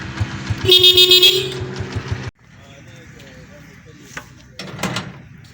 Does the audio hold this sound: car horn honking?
yes